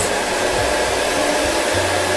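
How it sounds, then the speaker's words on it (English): A hair dryer blows warm air at the roots of short hair, lifting it off the scalp while styling. It makes a steady, loud, close whooshing roar that runs unbroken throughout with no talking. "lifting the hair off of the scalp, warming it with the dryer, letting it cool"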